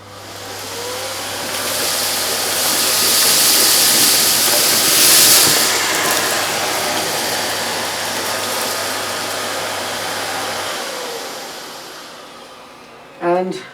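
Miele S4780 cylinder vacuum cleaner with a straight suction nozzle, a steady loud rushing hiss of airflow held for about ten seconds before cutting off, then a brief knock.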